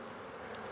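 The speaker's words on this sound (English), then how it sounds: "there's a lot of bees in here" Honey bees in an opened hive during a frame inspection make a dense, steady buzzing drone, faint and continuous across the brief moment, with no voices.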